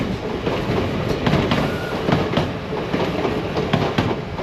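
A TransPennine Express train bound for Newcastle rolls past close by, a loud steady rumble with rhythmic wheel clatter and faint squeal throughout.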